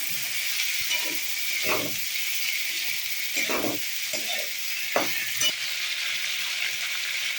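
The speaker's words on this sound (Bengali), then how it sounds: "এখানে আলু আর পেঁয়াজ দুটোই আছে, একসঙ্গে দিয়ে দিচ্ছি। ভালো করে ভাজা হবে।" Potatoes and onions fry together in a pan with a continuous close sizzle and hiss, while a spatula scrapes and stirs in several bursts at irregular intervals.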